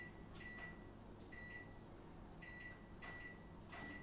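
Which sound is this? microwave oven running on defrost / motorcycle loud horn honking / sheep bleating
microwave oven running on defrost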